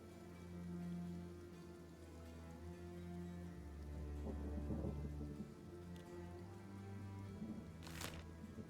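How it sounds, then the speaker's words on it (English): Acid rain and thunder in the video game Kenshi: a steady rain wash runs throughout beneath low tonal rumbles, with a brief crackling burst near the end. "Do you think you can outrun acid rain?"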